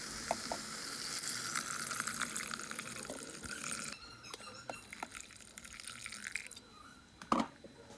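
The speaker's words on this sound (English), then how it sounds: "and then we're ready to add in our water." Water pours steadily into a pot, a continuous splashing hiss with a few drips and clinks, fairly quiet and close, no voices.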